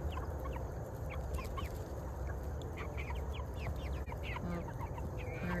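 Meat chickens cluck steadily in a loose flock while being moved into a trailer outdoors, overlapping calls close by and continuous throughout with no talk.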